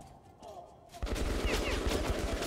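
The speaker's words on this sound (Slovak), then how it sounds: "Prečo ich tu strelám pištolkou vlastne netuším." Pistol shots fired in the Metro 2033 Redux video game, a rapid string of sharp, loud bangs packed close together after a quieter opening stretch.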